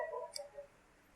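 A single faint, brief key click as the Ctrl T shortcut is pressed on a computer keyboard, quiet against a soft background hiss.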